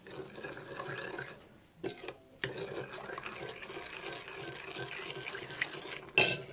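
Dry yeast is mixed into liquid in a bowl for Goan maska pav, with soft clinking and swirling spoon sounds, a brief pause, then continued close stirring ending on a sharper clink.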